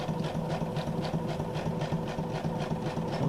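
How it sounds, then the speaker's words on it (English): A sewing machine running quickly in a zigzag stitch on a journal card, a close, even mechanical whir with a fast regular pulse of needle strokes. "I'm just going to go ahead and sew this quite quickly. And I'm going to use the zigzag again."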